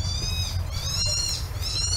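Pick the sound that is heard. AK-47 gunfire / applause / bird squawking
bird squawking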